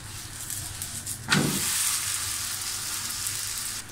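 Onion lachha paratha sizzling in ghee on a hot pan, with a sudden burst of frying hiss as it is flipped, then a steady sizzle.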